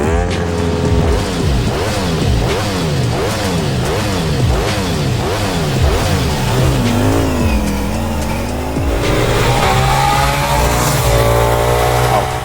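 A 2024 Ducati Diavel V4 with a Panigale-derived V4 engine revs hard over and over in a loud, close series of rising and falling blips, then climbs into a longer sustained howl, with no talk.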